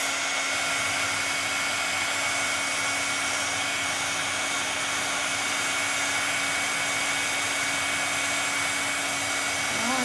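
A hair dryer blows steadily to dry paint on a gnome door hanger, a loud, constant whirring hum with no break that ends abruptly at the close.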